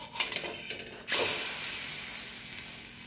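A flatbread breakfast snack on a plain iron griddle over low heat, flipped with a short scrape and clatter near the start, then a steady broadband frying sizzle that fills the rest.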